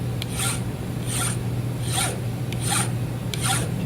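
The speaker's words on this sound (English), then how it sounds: "We're going to use our double cut file first." A double cut file rasps across a metal drill point gage in five even strokes about a second apart, each a bright scraping pass, close and clear with no voices.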